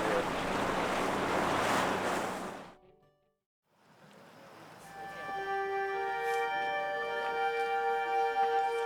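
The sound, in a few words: ocean waves, Galapagos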